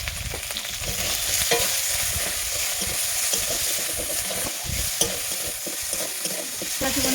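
Chopped tomatoes with salt and turmeric fry in a pan and are stirred steadily, a loud close sizzle under continuous scraping and stirring strokes, no voices.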